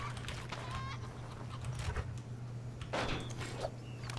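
A chicken clucks repeatedly in the video game Crysis, its short calls rising over a steady low engine-like hum.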